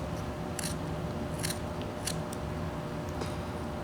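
A whittling knife shaves the sides off a small piece of wood in a few short, crisp cuts spaced about a second apart, quiet and close against a faint background hum.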